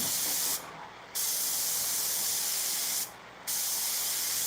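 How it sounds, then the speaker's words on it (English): Blue spray paint hisses onto a cotton costume piece in two long, loud, steady bursts separated by a short pause, with no talking. "it's blue spray paint for cotton candy"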